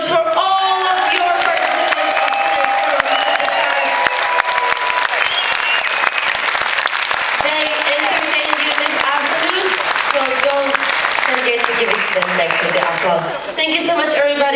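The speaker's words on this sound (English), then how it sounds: "please make some noise for all of your" Cruise ship audience at a karaoke competition on Serenade of the Seas applauding loudly, with sustained clapping, whoops and shouted cheers, plus a host's voice over the crowd.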